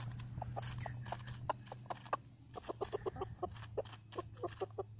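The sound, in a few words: roosters clucking while eating lettuce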